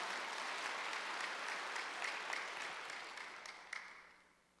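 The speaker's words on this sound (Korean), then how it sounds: "박수를 하나 돌리세요" A church congregation at a Wednesday worship service gives a steady round of applause, a dense wash of many hands clapping at moderate distance that gradually fades out over a few seconds.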